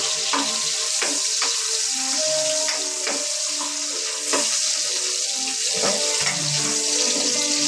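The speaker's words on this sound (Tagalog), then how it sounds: "isabay ko na ang bawang at saka luya" Garlic and ginger sauté in a pan with a continuous frying hiss, scattered sharp pops and some clinking, without any talking.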